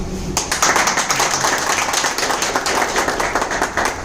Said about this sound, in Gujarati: તો તાળીઓ તમારા માટે